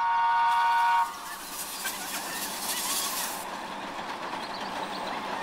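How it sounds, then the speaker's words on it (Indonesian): A blue Thomas toy train runs along, opening with a steady horn-like electronic toot for about a second, then a continuous mechanical whirring rattle of the toy running close by, with no talking. "Kereta api Thomas lagi warna biru."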